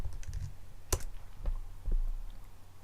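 Quick, quiet clatter of keys on a computer keyboard, a short burst of several sharp taps and clicks with no voices.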